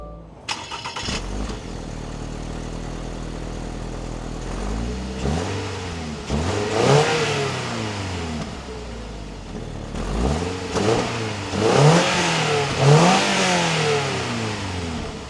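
A 2025 Toyota GR86 with a boxer engine cranks and fires up, settles into a steady idle, then revs sharply several times in rising and falling sweeps, loud and close.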